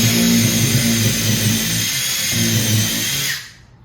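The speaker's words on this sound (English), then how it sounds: "And we're going to pre-drill new holes, 1/8 inch" A power drill pre-drills 1/8 inch holes into a wall stud for mounting a PRx Performance Profile Pro rack bracket, a loud, steady motor whine running continuously up close before cutting off at the end.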